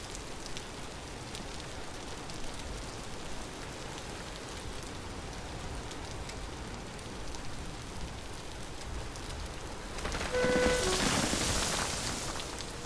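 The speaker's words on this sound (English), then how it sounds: "I think going back into the rain is building my confidence." Rain in the Vintage Story video game, a steady dense patter and hiss of falling drops on surfaces, continuous throughout, swelling briefly louder and brighter near the end.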